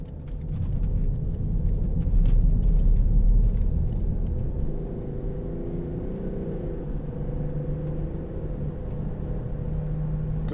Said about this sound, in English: Good turn of acceleration.